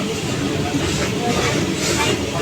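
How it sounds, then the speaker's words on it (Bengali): Interior of a moving metro train in Kolkata, a steady dense rumble and hiss of the running carriage filling the whole stretch at constant loudness, with no clear voices. "এখন কিন্তু মেট্রোর ভিতরেই বসে আছি"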